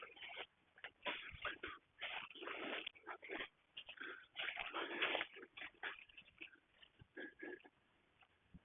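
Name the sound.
cow dog whimpering after being left behind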